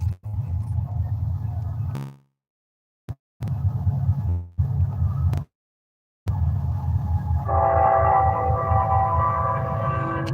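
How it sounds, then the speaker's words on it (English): A train passes along railroad tracks, a loud low rumble broken by gaps of silence before a sustained heavy roll with ringing tones rising over it near the end. "here's another train"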